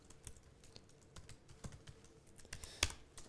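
Typing on a computer keyboard while writing HTML code, close and fairly quiet irregular key clicks with one louder keystroke near the end, no speech.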